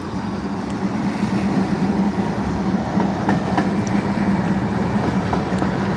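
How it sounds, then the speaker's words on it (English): A freight train rolls past in Dalton, Georgia, a steady loud rumble with a low hum and faint rhythmic clacking of wheels throughout, heard from close by with no talk. "we got another train fixing to come by"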